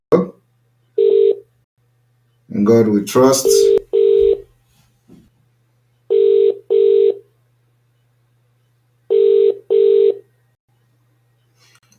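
A phone call is placed with repeated pairs of telephone ringback tones in evenly spaced double bursts over a faint steady hum, after a brief stretch where a voice speaks over the line.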